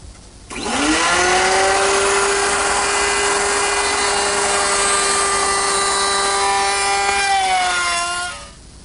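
A router bit whines steadily through wood cutting grooves for several seconds, a loud sustained tonal buzz that spins up at the start and winds down at the end.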